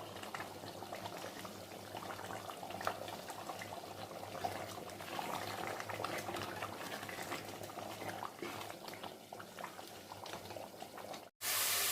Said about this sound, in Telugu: ఇప్పుడు బాగా దగ్గర పడేంత వరకు ఈ మసాలా అంతా ఉడకనిద్దాం